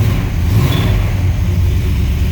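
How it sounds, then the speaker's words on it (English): A 1979 Ford Bronco with a factory two-barrel 400 V8 idles loud and close, a rough low rumble holding steady with a slight swell in revs. "This thing just fires up real nice."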